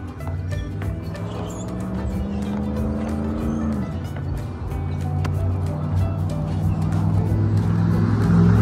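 A car drives past on a quiet village road in America, its engine hum rising and swelling steadily as it nears, with birds chirping faintly over the continuous drone.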